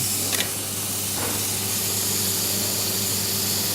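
Jarred tomatoes drop into a hot frying pan for an aubergine tagliatelle sauce, raising a steady, close, bright sizzle and hiss that holds evenly throughout with no talking.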